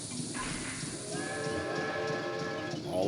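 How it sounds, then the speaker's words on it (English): A train pulls in within the video game Banjo-Tooie, with a steady hissing rumble and a sustained whistle-like tone through the middle, set against game background sound. "Oh, I think I heard the train arrive."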